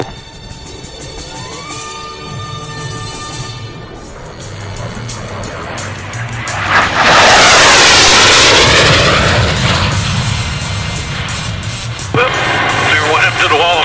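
A Harrier jet makes a low pass at the 2012 Winston-Salem airshow, its roar swelling loudly to a peak midway and then holding as a strong rumble, with voices and radio chatter underneath.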